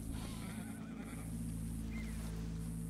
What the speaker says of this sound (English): Careful for that horse now.